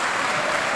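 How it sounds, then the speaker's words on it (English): Audience applause at a secondary school's 25th anniversary celebration in Trinidad, a brief dense burst of clapping that fills the whole moment at steady loudness. "Give yourself a round of applause."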